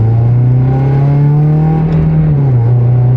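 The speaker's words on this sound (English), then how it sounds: "My car being loud is not going to particularly lend to the vlogging portion of this" A loud car engine drones steadily from inside the vehicle, a strong low hum with a slight rise and dip in pitch as it runs, close and constant with no talking.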